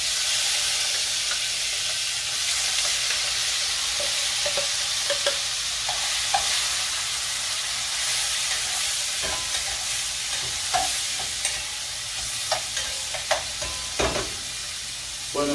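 Chicken gizzards fry in a pan for guineo escabeche, giving a steady close broadband sizzle with frequent stirring clicks and scrapes that grow more frequent toward the end, with no talking.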